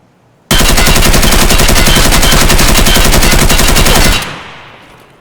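An assault rifle in Escape From Tarkov fires one long, very loud, rapid full-auto burst lasting about four seconds, then the shots cut off and a short echoing tail decays.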